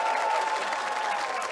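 Live crowd at an LCS Summer Split League of Legends match between Team Liquid and Golden Guardians, a brief burst of dense applause and cheering filling the hall.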